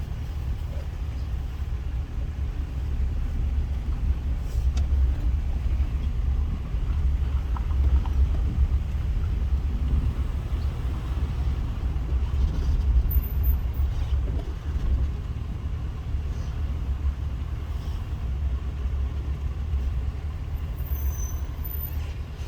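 An Isuzu Rodeo SUV drives along, a steady low engine and road rumble running throughout, with no obvious revs or changes.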